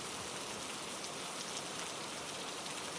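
Steady, dense rain falling on a rainy day in a forest, an even unbroken hiss that holds at the same level throughout, with no voices.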